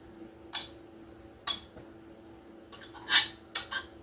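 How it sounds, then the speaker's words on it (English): A butter knife trims the crust edge off a spinach quiche in a pie dish, giving several faint, sharp clinks and scrapes of metal on the dish, spaced irregularly against a quiet kitchen background. "I'm going to do my mom's method of cutting off the edge with a knife, just a butter knife or regular table knife"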